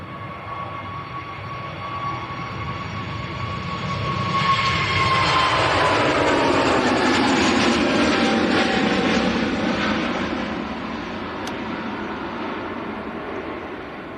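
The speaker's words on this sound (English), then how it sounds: "This will be the Scandinavian A320 Neo to Stockholm." Scandinavian Airbus A320neo jet at Manchester Airport, heading for Stockholm: a broad engine roar that builds over several seconds, peaks loudly, then slowly fades, with a faint whining tone at the start and no talking.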